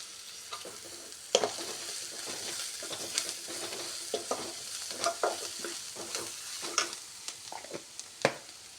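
Paneer masala with red chili powder and turmeric frying in a pan, a steady close sizzle with repeated stirring scrapes and clicks throughout, no voices.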